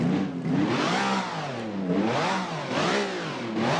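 Repeated revving of a fan-made video game car's engine, several rhythmic climbs and drops in pitch with a gritty, clattering race-car tone, steady and close with no voices.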